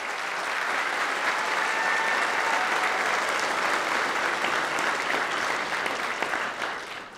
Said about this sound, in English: If we could give Dr. Law a round of applause.